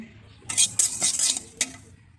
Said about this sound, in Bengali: এটাকে আমি আগে ভেজে নেব